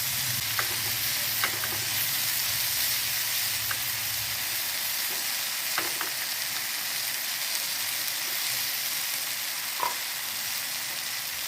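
Tilapia brushed with soy sauce sizzles steadily on a Teflon pan, a constant hiss of frying with a few small pops and crackles scattered through, close and fairly loud with no voices.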